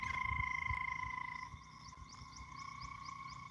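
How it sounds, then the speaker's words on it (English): Small frogs croak after rain in a rhythmic series of quick chirping calls, faint and fairly distant, over a steady high insect-like drone and low background rustle. "Those are little frogs, Jovan."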